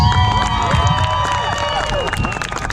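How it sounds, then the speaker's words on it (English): A large outdoor airshow crowd cheers, whistles and applauds for the US Navy and Marine Corps Blue Angels, a loud, steady roar of clapping and shouts with high whistles running throughout. "Ladies and gentlemen, give it up for the Blue Angels!"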